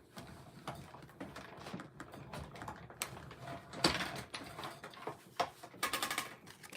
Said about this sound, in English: I'm going to go ahead and die cut that